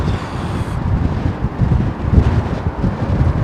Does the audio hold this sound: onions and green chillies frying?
no